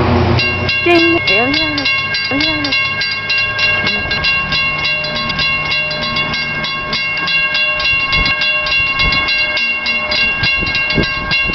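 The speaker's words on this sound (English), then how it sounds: "I hear a train." A train passes a railroad crossing, a loud, steady rolling rumble running throughout with sustained tonal horn or whistle notes layered over it.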